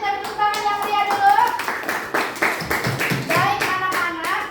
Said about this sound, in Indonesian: terima kasih untuk aja kita tepuk tangan yang pria dulu